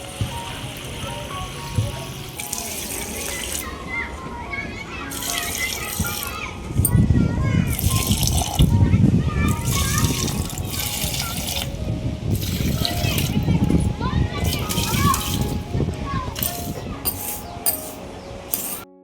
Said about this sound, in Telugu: ఇప్పుడు వరకు వచ్చిన గిన్నెల్ని క్లీన్ చేస్తున్నాను